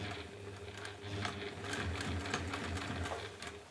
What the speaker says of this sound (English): just sew across that end bit just to hold it down